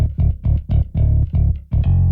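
A clean, dry bass guitar plays a bouncy line of short, deep plucked notes, loud and close, with no other instruments or voices.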